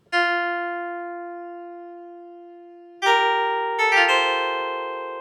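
A strings preset on the RipplerX physical modelling software synth plays a note that fades slowly, then two more notes enter around the three- and four-second marks and decay again. No voices.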